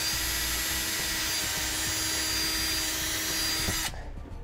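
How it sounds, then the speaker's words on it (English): A power drill whines steadily at close range, boring through a rubber plug in a 2017 Subaru WRX spare tire well for about four seconds before cutting off abruptly. "we're gonna drill a hole right in the middle of it."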